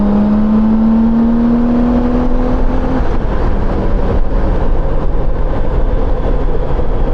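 A Honda Goldwing 1800 motorcycle accelerates hard, its engine tone rising steadily in pitch over a continuous loud rumble of engine and wind noise.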